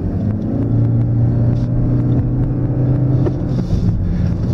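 An eco hatchback pulls away leisurely with a steady low engine drone and rumble, plus some wind noise. The sound stays even and close throughout and no one talks.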